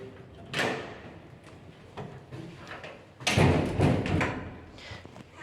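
A second elevator landing door in a Warsaw apartment building is pushed closed, giving an early thump, scattered knocks, then a louder clattering bang with rattling latch noises in an echoing stairwell.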